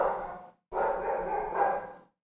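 Dogs bark in a room nearby, two loud rough bursts of barking separated by a short pause, with no talk over them.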